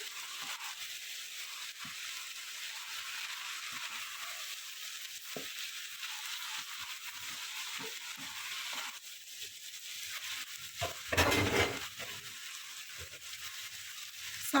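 Onions cooking slowly on low heat in a pot with no water added, a soft continuous sizzle with occasional faint stirring scrapes, quiet and steady with no talk.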